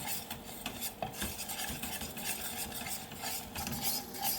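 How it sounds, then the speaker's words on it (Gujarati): Wheat flour roasts in ghee while being stirred, a soft, continuous scraping and faint sizzle close by, with the spoon moving steadily through the mixture. "આ લોટને થવા દેવાનો, લાલ જેવો થવા દેવાનો."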